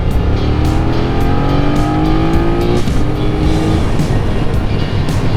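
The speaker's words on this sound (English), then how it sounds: "Straight up to 60 plus with a twist of the throttle there" A 2023 BMW F 900 R naked motorcycle accelerates hard with a twist of the throttle, its engine note rising steadily in pitch through the gears, loud and close over constant wind rush, with no speech.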